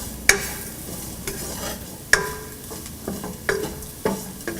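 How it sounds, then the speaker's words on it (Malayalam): Spices and asafoetida powder being sautéed in a pan for garlic pickle, with a handful of sharp spatula scrapes and stirs over a soft background sizzle, close and clear with no talking. "കായപ്പൊടി എന്നിവയെല്ലാം കൂടിയിട്ട് ശരിക്കും വഴറ്റിയെടുക്കുക."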